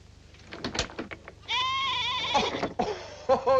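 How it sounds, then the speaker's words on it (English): Goat bleating indoors in a 1957 film scene: a few soft rustles and clicks, then a loud, wavering bleat, followed by a second shorter cry, close and clear. "Oh, it's the goat!"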